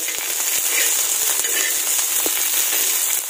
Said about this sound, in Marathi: ह्या मिरच्या आपल्याला चांगल्या भाजून घ्यायच्यात